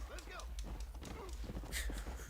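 A horse gallops in the Red Dead video game, with quick clip-clop hoofbeats running under continuous talking.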